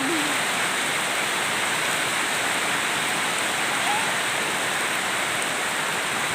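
Heavy rain pours down in a dense, unbroken hiss, loud and close like water streaming off surfaces, with a faint brief voice near the start.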